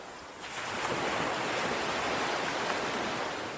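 Steady surf rolling onto the beach at Frinton near Polebarn Lane by a concrete jetty, a broad continuous wash of waves that swells in after a brief quiet start, with wind noise and no voices.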